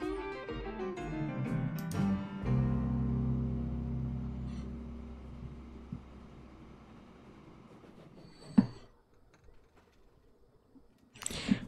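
Freight train carrying fuel in the video game Transport Fever rumbles steadily with low wheel and wagon noise and some squealing, gradually fading, followed by a couple of sharp clanks near the end.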